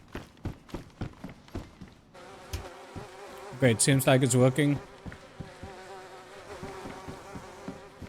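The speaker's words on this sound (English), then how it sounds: "That's how you get bees inside there." Bees buzzing in a hive in the survival video game DayZ, a rough insect drone that swells loudly for about a second in the middle, amid clicks and footsteps, with a short spoken remark.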